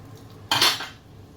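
Sitaw and talong are stirred into pork sinigang in a pot, one short close clink and scrape of a utensil against metal.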